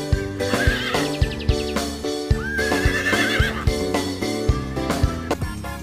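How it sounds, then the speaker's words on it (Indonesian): A delman cart horse lets out a wavering whinny in the middle, over steady music and a few sharp clip-clop-like knocks, loud and close. "Kalau ini kuda delman."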